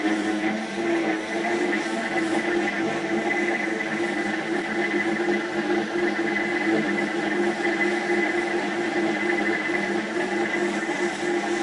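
A quadcopter flying machine with one half disabled keeps up a continuous, even propeller buzz with steady high whining tones, unbroken for the whole stretch.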